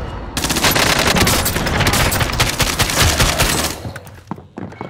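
Video game gunfire: rapid automatic bursts, loud and close, rattle continuously for several seconds before breaking into a few scattered shots near the end.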